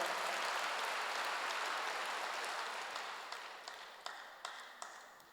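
A church congregation applauds, with a steady wash of many hands clapping that gradually thins out, leaving a few sharper, distinct claps near the end.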